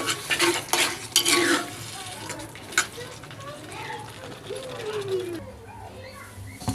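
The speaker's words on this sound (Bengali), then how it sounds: "টমেটোটা দেওয়ার পরে এটা আমি কিছুক্ষণ সময় ধরে কষিয়ে নেব।" Spice paste and tomatoes being stir-fried in a pan for a hilsa fish curry. A spatula clatters and scrapes against the pan over a steady sizzle, while a voice talks throughout.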